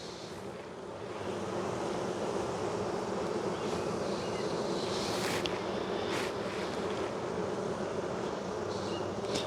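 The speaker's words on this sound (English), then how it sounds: "A lot of bees in this box right now." Dense, steady buzzing of many honey bees crowding a hive box with drones hatching and capped honey on the frames, a continuous close drone that swells slightly after the first second and holds throughout.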